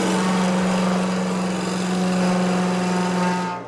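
A parting tool cuts into a maple and epoxy resin bowl spinning on a wood lathe: a constant humming drone with a rough scraping edge that runs evenly, then drops off abruptly at the end.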